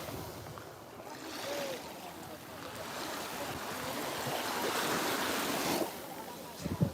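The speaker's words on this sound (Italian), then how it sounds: "E questa è la spiaggia delle Sabbie Nere. Il mare è bellissimo oggi." Sea waves wash onto a black sand beach at Lipari in a continuous rushing surge, mixed with gusty wind buffeting the microphone and a swell around the end.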